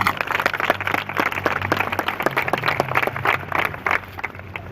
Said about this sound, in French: applaudissez parce que vous êtes là